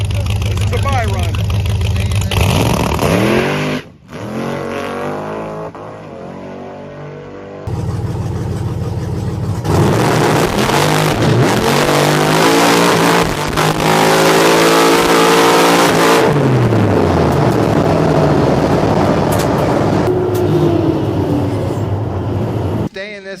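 A drag racing car roars off the line at a Roadkill Nights grudge match with a little tire spin, its loud engine revving and rising through the run, with a short drop partway and a voice speaking over it.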